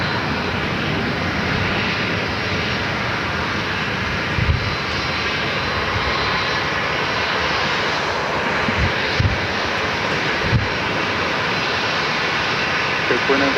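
A Boeing 747-400 converted passenger jet roars at Phoenix Sky Harbor airport, a loud, steady, broadband engine rumble that fills the whole stretch with little change.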